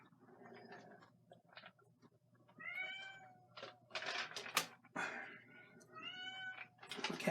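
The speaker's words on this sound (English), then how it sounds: "My cat's looking for me." A house cat meows twice in drawn-out, rising-and-falling calls, close by and moderately loud, over a low steady room hum with a few soft background clicks.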